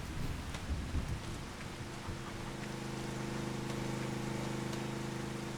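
Steady rain with rolling thunder in the Farming Simulator 25 video game, a low rumble building at the start, then continuous rainfall with a droning hum, moderately loud and with no talking.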